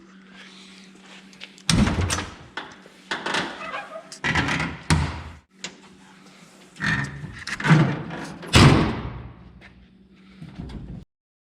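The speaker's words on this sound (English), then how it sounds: "And now you can slam the doors in it." The doors of a 1927 Essex rat rod, a hand-controlled jalopy, are slammed shut over and over, producing a series of loud close metallic thuds and clunks with short pauses between them.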